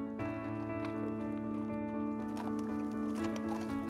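Polo pony hooves clip-clop at a luxury polo farm in Wellington, faint and irregular beneath a sustained, swelling music bed that dominates throughout.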